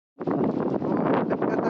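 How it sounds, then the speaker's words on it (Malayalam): Strong wind gusts over open water during an evening of fishing, a loud, close, continuous buffeting roar against the microphone. "കാറ്റ് ഇവിടെ നിന്നിട്ട് ഞങ്ങൾ പറന്ന് പോകുന്ന അത്രയും കാറ്റുണ്ട്"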